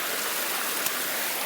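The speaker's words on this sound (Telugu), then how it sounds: "ఈ ఫాల్ ఉంది ఇక్కడ" A small waterfall pours into a village pond, making a steady, even rush of falling water that fills the whole moment at moderate volume with no voices.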